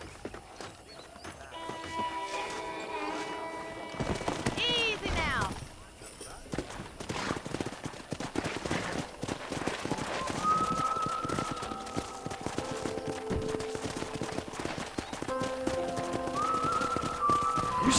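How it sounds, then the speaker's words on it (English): Wild horses gallop and whinny in Red Dead Redemption on PS5, hooves clip-clopping under steady game music and scattered effects, with a rider's voice speaking briefly over the herd. "That ranch hand said there's a pack of wild horses nearby."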